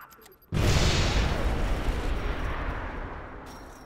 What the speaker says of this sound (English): There was a hell explosion.